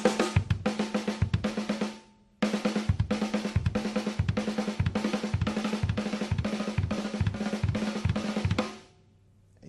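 Snare and kick drums play a 4 and 2 pattern: fast, even strings of sharp snare strokes and deep kick thuds, close and loud, with a brief pause near the start before the pattern resumes and then decays.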